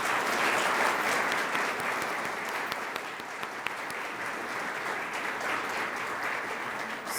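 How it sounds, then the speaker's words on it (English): An audience at a Columbus Metropolitan Club event gives a round of applause for the mayors and host on stage: steady, even crowd clapping that holds at a moderate level throughout without talk. "Let's give them all a round of applause."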